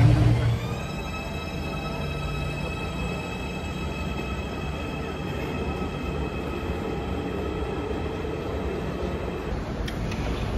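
Train station ambience at Piraeus Station in Athens, with a steady rumble of a train on the rails, high tonal whine and squeal layered over it, fairly loud and continuous with no talk.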